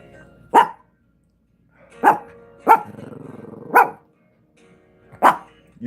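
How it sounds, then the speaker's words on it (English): A dog on a porch barks excitedly in loud, close, separate bursts about a second apart, with a low growl rumbling between two of the barks. "My sons came up on the porch and the dog goes nuts."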